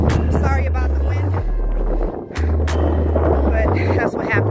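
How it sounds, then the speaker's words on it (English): Strong wind buffets the microphone high on the slopes of Pacaya volcano in Guatemala, a loud, steady roar with low rumbling gusts, while a hiker breathes and talks faintly underneath. "Sorry about the wind."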